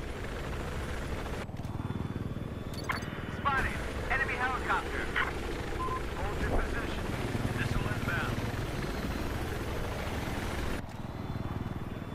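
AH-1Z Viper attack helicopter in Battlefield 4 on the Giants of Karelia map, a loud, continuous rotor and engine drone with gunfire and explosion-like bursts and electronic beeps, while players talk over it.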